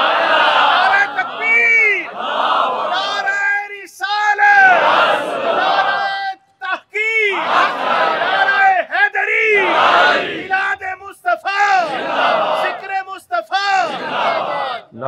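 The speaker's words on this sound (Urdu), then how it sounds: "نعرے کم لگائیں" A large crowd at a Milad un Nabi religious gathering chants slogans in loud, rhythmic bursts, a lead voice calling and many voices answering in repeated waves.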